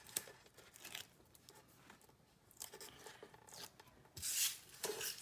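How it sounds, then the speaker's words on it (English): Backings peeled off layers of a heat-embossed, watercoloured stamped card: close, quiet rubbing and crinkling of paper, ending in a louder rasping tear near the end. "So taking the backings off."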